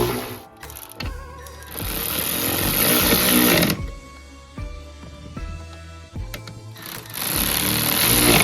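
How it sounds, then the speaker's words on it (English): Buzzing bursts of a power tool unbolting the turbo on a 1989 Volvo 740 Turbo Diesel, loud close runs of a few seconds each separated by short pauses. "So here I'm just unbolting the turbo."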